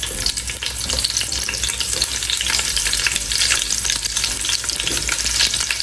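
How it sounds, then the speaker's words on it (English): Onions dropped into hot oil fry with a loud, close, continuous sizzle and crackle, steady throughout with no voices. "I'm going to add my onions."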